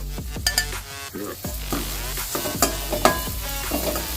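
Onions, green chilies, grated ginger and curry leaves are sautéed in a pan, with steady crackling sizzle and repeated scraping, clanking strokes of a spatula against the metal, close and moderately loud.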